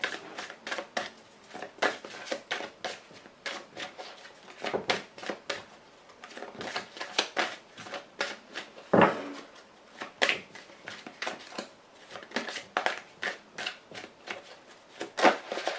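Playing cards are drawn, flipped and handled during a card reading: soft slaps, flicks and shuffling rustles in an irregular rhythm, close and fairly quiet, with one sharper snap partway through.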